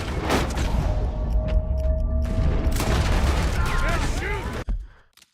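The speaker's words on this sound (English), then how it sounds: "Oh man, I'm shooting my own cover." Gunfire in Red Dead Redemption 2 as a player shoots into their own cover, a loud dense burst of shots and booms filling most of the moment before cutting off abruptly.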